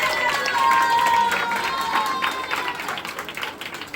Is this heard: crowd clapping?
yes